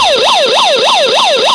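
A small restored megaphone speaker sounds its siren, loud and close, with a wailing tone that rises and falls in quick regular sweeps and runs continuously.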